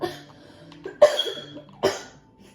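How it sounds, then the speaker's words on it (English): Two sharp coughs ring out close by, about a second apart, over a quiet background with a faint low hum. "I have a bit of cough."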